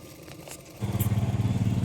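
A sewing machine starts up and stitches a double-katori blouse, settling into a loud, close, rapid rhythmic whir after a brief quiet moment of fabric handling.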